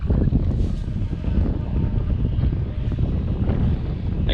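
Wind buffets the microphone outdoors at a muddy field site during metal detecting, a loud, continuous low rumble with gusty swells that fill the whole stretch, no voices over it.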